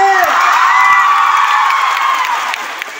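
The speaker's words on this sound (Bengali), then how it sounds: "জোরে হাত তালি" Loud, close applause and cheering from a college freshers' welcome audience at Saradamani College, a dense wash of clapping and shouts that holds steady, then tapers off slightly toward the end.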